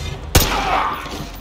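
A single sharp gunshot in Call of Duty Modern Warfare 2 Remastered, a loud close crack with a short rumbling tail over low game ambience.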